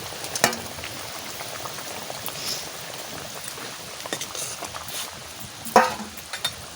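Dried fish is added to hot oil with green chillies and turmeric, frying with a moderate bubbling sizzle, punctuated by a few sharp clinks and splashes as it goes into the pan. No one speaks.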